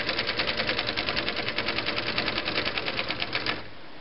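A Viking Type 21 sewing machine stitches in reverse, a fast, even needle rattle running steadily up close for about three and a half seconds before cutting off abruptly.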